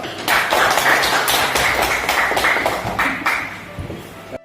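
Classmates clapping in a classroom after a student presents a lesson summary, a dense burst of many hands that holds steady, then thins and fades toward the end.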